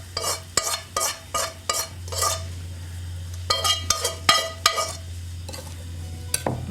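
Breadcrumb topping stirred into cooked bacon in a pan, with repeated scraping and clinking of a utensil against the pan in uneven bursts over a low steady hum, close and fairly clear, no talking.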